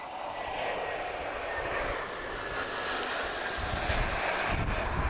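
An Airbus A321neo arriving at Lisbon Airport from Porto roars past in a loud, steady broadband engine rush that holds throughout, with slight wind noise on the microphone.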